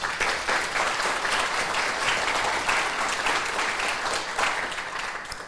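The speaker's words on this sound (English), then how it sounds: "So let's give them all a round of applause." A crowd at a campus naming ceremony gives mural artists a sustained round of dense applause, steady and loud throughout before easing slightly at the end.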